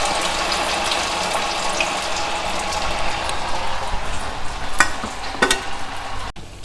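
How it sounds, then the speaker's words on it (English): Vadais slipped one or two at a time into hot oil over medium heat, giving a steady close hiss of frying with a few sharp clicks and pops toward the end, no voices. "gently slide in the vadais into the oil"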